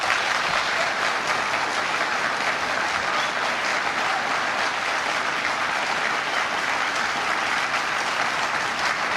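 Sustained applause from a large audience at the 1984 vice presidential debate, a dense, steady roar of clapping that holds evenly from start to finish with no voices breaking through.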